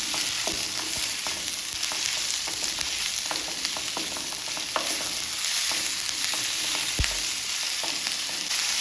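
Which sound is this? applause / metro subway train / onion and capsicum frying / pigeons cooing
onion and capsicum frying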